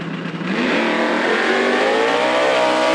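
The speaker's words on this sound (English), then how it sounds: "Jesse takes off, leaving Gavin in the dust." A Camaro launches hard off the line at a drag strip, its engine roaring loud and close in one sustained rising surge after a brief start.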